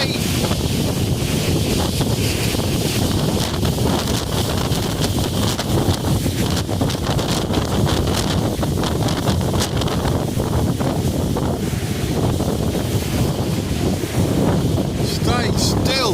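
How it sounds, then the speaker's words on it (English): Crazy strong wind pounds the microphone at Fomm Ir-Rhir, Malta, a loud unbroken roar over crashing big waves, continuous for the whole stretch with a voice faintly mixed in. "It's a windy day."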